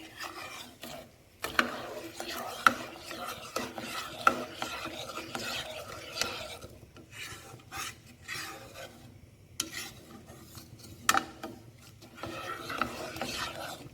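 A spoon stirs and scrapes milk in a pot while kheer cooks, giving repeated rasping strokes and light clinks against the pot, close and fairly faint, with a soft sizzle underneath.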